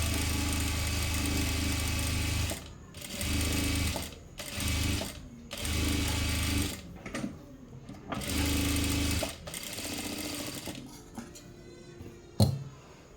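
A sewing machine stitches lining onto readymade cutwork sleeves in several bursts of fast, steady whirring, each lasting one to two seconds and separated by brief pauses, close and clear, ending with a small clack.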